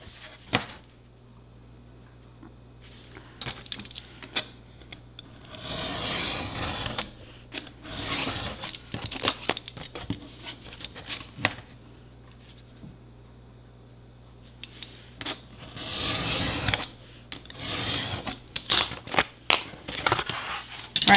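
Scissors or a blade cutting material for a tiny bookshelf, giving bursts of rasping, scraping strokes near and fairly loud, separated by quieter handling noises with no talking.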